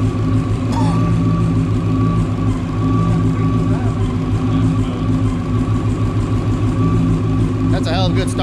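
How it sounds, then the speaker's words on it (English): Supercharged 800 hp Fox body Ford Mustang engine running just after its first start, a loud steady idle with blower whine and a constant mechanical drone the whole time. "That's a hell of a good startup tune because it's actually running really good."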